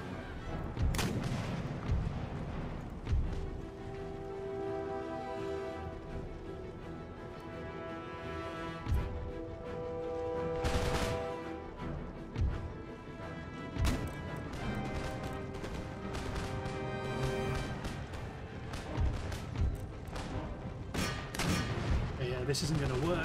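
Cannon and musket fire in the video game Empire: Total War during a siege battle, with scattered booming shots and crackling volleys over a continuous battle din, mixed with music and voices.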